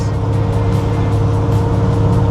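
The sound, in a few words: 1951 Ford Custom cruising at 65 mph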